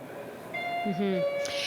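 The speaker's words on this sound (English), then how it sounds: "The bells are going off at Queen's Park because the vote is underway on whether to censure NDP MPP Sarah Jama" Division bells ring at Queen's Park, the Ontario legislature, calling members to a vote on censuring an NDP MPP; a steady electric bell tone sustains under a voice talking nearby.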